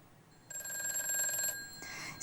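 Telephone ringing for an incoming caller in a television studio: a single short electronic ring burst that rises, holds about a second, then fades, with quiet background around it.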